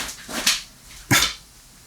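A dog barks twice at close range, two sharp separate yelps a little over half a second apart, heard alone with no talking.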